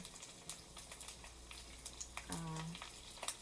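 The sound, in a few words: dumplings frying in oil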